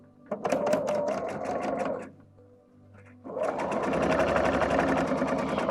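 A sewing machine stitches quilt pieces for a remade antique quilt, whirring in a steady rapid burst, pausing briefly, then running again in a longer continuous stretch, close and clear.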